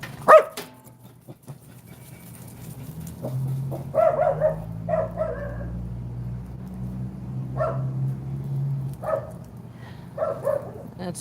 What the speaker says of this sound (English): That's my dog Spock